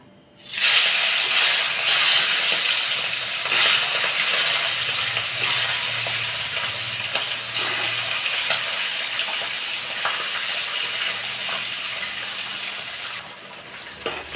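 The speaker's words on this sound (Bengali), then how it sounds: "মাছটা ভাজা হয়ে এসেছে, গ্যাসটাকে একদম কমিয়ে দিয়েছি।" River tangra fish fry in oil on a gas stove with a loud, continuous hissing sizzle that runs unbroken for many seconds before easing off at the end.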